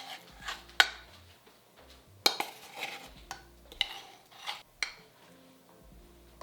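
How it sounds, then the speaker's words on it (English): Flour, baking powder, spice and salt being stirred together in a mixing bowl: soft, quiet scraping broken by several sharp clinks of a utensil against the bowl, with no voices. "We're combining the dry ingredients."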